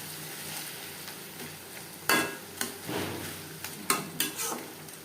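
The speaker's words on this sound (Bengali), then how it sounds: "তেলের সাথে টমেটো বেশ ভালো করে মিক্স করে দেব।" Tomatoes stirred into hot fish oil in a pan for macher tel chorchori: a steady sizzle of frying runs throughout, broken by several loud scraping and clanking strokes of the spoon against the pan, with no voices.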